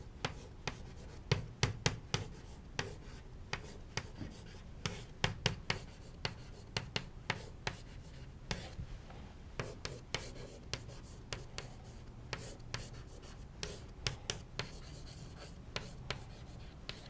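Chalk writing on a board during a physics lecture on heavy quark symmetry: a long run of scratchy taps and strokes, fairly close and moderately loud, with no talking.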